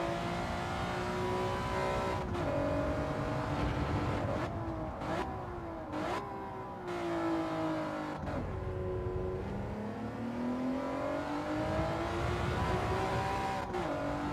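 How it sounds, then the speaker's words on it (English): Simulated racing car engine in a video game, steady loud revving with rising and falling pitch sweeps and brief gear-change dips, continuous throughout with no talking. "Sounds very much like a very mildly tuned F1 engine."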